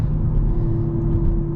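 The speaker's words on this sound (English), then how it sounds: "Look at these downshifts." A deep, rumbling Alfa Romeo Giulia Quadrifoglio engine drones close by, its low tone wavering briefly through downshifts, with no voices over it.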